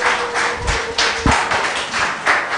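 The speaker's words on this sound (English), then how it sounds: "A round of applause for him," Audience at a startup accelerator demo day giving a round of applause, steady dense clapping from a sizable crowd with a few sharper claps standing out, moderately loud.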